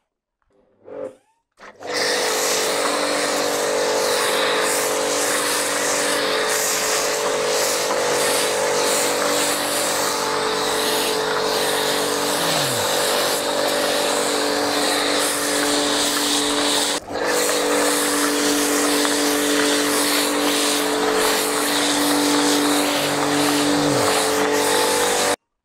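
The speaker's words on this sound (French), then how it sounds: "on enfile le canon à mousse" A pressure washer with a foam cannon sprays a car being washed, a loud, steady hiss and pump drone starting abruptly after a brief click and running continuously, with one short interruption midway.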